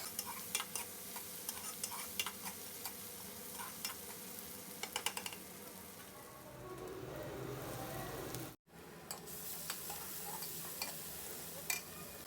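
Onions fry in a pan for a village-style dry fish curry, a continuous sizzle with scraping stirring strokes throughout, broken by one brief silent gap.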